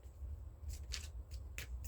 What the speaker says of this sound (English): I'm gonna give a good shuffle